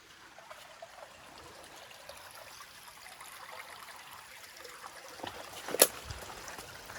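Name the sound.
Thomas Creek flowing water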